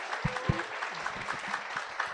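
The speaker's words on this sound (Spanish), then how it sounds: "por supuesto, un aplauso más" Applause from the audience at a Spanish-language higher education talk, fairly faint scattered clapping with a couple of distinct louder claps near the start, thinning out into an irregular patter.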